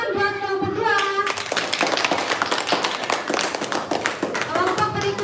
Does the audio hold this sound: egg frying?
no